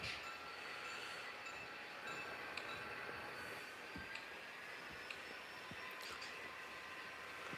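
An HO scale model locomotive runs on its layout, making a faint continuous rolling rumble with light clicks and a thin whine over the motor noise.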